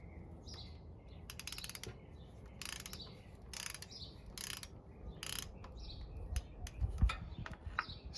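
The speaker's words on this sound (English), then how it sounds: "torqued down to 10 foot-pounds. So have our torque wrench here." A torque wrench ratchets as bolts are tightened down during pre-trip motorcycle maintenance, giving several short bursts of clicking spaced through the clip amid faint background noise and a few bird chirps.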